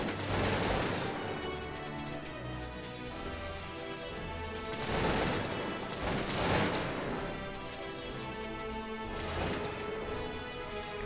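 Massed musket volleys crackle nonstop through a Cossacks II: Battle for Europe battle, a dense, loud wall of overlapping gunfire that swells in the middle.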